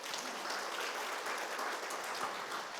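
A hall audience at a literary award ceremony claps steadily and evenly for a short stretch, soft and somewhat distant with no pauses.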